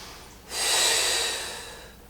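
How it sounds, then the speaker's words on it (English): A single strong exhale during a Pilates flow class, a breathy rush of air rising quickly, holding for about a second and then tapering off, close to the microphone with no talk over it. "exhale"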